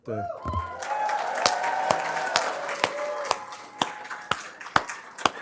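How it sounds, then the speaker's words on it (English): Audience at a pharmacy white coat ceremony applauding the incoming class of 2030: a steady wash of clapping from a large room, with sharp individual claps standing out, fairly close. "That'll be the first of many rounds of applause."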